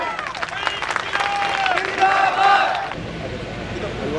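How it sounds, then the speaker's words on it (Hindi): Crowd applause at an outdoor political rally for the Jantantra Yatra in Taoru, clapping and cheering mixed with crowd babble and voices, fairly loud, then thinning into a quieter murmur in the last second. "कृपया जोरदार तालियां।"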